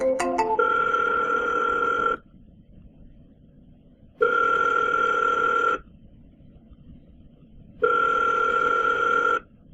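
Outgoing call ringback from cold calling software: three long, even rings separated by quiet pauses, clear and steady with no talk.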